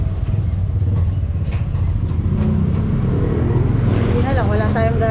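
A car drives along a road that is sometimes bumpy, with loud, continuous engine and road rumble throughout and a voice talking over the driving noise.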